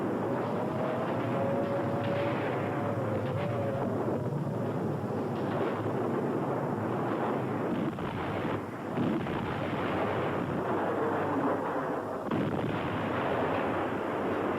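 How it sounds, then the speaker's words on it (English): Bombs dropped by German bombers explode over London in a continuous rumbling barrage of distant blasts and low booms, with a faint whistling tone near the start and no voices. "a German squadron of bombers accidentally drops its bomb loads on civilian targets in London"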